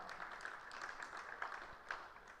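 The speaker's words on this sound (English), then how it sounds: "A round of applause for her" Audience applause at a public lecture: a steady, moderately distant wash of many hands clapping together, sustained evenly for a couple of seconds with a few sharper claps standing out.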